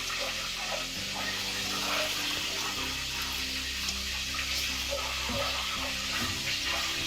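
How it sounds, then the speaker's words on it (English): Warm water pours steadily from close by into a container to soak dried akobokomb for a traditional Teso dish, a constant splashing stream for several seconds with no talking. "Some warm water like this."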